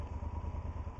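Motorcycle riding along at dusk, its engine a steady low rumble with rhythmic pulsing throughout a short, close stretch, no voices.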